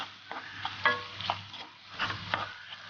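Onions and garlic sautéing in a pan with salt for chicken meatballs, a soft steady sizzle broken by light stirring scrapes, fairly quiet with no talk.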